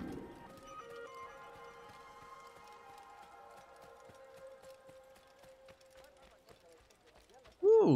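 Horse hooves clop in a steady, fairly faint rhythm in the video game Assassin's Creed, sounding under a sustained musical tone, with a louder burst at the very end.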